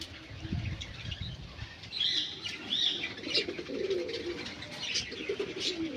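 Pigeons coo continuously at close range while wings flap in brief bursts, with soft chirps scattered through a busy, steady bird backdrop.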